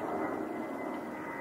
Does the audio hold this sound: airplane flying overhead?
yes